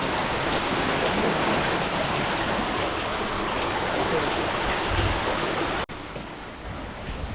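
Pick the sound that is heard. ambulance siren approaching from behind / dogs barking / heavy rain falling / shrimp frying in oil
heavy rain falling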